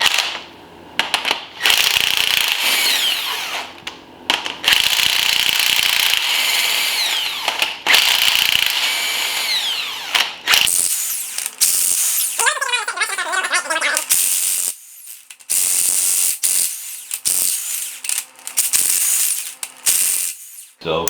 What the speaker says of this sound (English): Next, I'm gonna work out the head bolts, and I'm gonna use my impact.